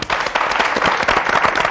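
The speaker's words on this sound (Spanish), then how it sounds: "un aplauso muy fuerte" Loud applause from a TV studio audience on a Spanish morning show, dense rapid clapping that runs continuously at close range.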